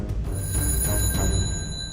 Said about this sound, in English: Moments later, a phone rang in the Grand Central Oyster Bar.